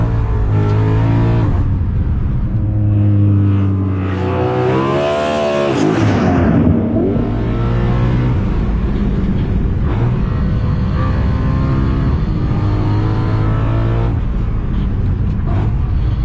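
A V8 car engine at a race circuit paddock revs up loud and close, its pitch sweeping sharply upward then settling back to a steady, rumbling idle.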